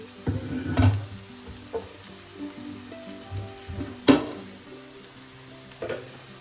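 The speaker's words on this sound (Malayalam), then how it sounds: "ഹൈ ഫ്ലെയിമിലിട്ട് തന്നെ മിക്സ് ചെയ്യാം. ഈ സമയം നമുക്ക് വെണ്ടയ്ക്ക ചേർക്കാം." Okra and potato being stir-fried over a high flame, a close sizzle under repeated clattering stirs and scrapes of a spoon against the pan, with sharp knocks at intervals.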